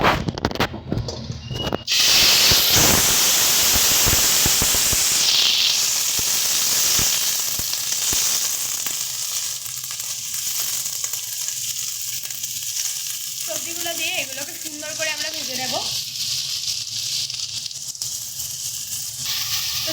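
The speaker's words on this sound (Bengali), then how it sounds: "দেখো তেল আমাদের গরম হয়ে গেছে এবার এর মধ্যে আমরা দিয়ে দিচ্ছি সবজি" Carrot, potato and beans dropped into hot oil, a loud burst of crackling sizzle at first that settles into a steadier frying hiss with occasional stirring clinks, close and without talk.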